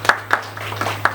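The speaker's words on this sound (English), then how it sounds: "give our speakers a round of applause again" A few scattered hand claps from an audience after speakers at a business talk event at the Gambia Chamber of Commerce, sparse and fairly close, with no talking over them.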